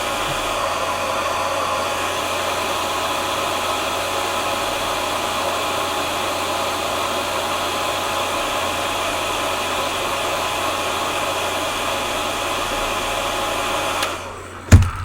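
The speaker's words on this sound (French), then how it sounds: "J'en profite quand même pour mettre un petit coup de sèche-cheveux." A hair dryer blows in a steady, loud, close whoosh for about fourteen seconds, then cuts off with a brief clunk.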